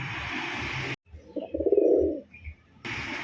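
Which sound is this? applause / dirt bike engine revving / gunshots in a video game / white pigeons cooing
white pigeons cooing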